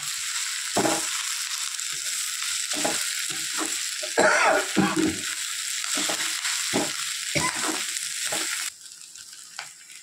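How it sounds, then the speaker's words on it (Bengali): Boiled chicken tipped into spices already frying in a pan, a loud burst of sizzling and stirring scrapes that settles into a quieter steady fry near the end. "এখন আমি এই যে সিদ্ধ করে রেখে দিয়েছিলাম চিকেনটা, এই চিকেনটা ঢেলে দেব।"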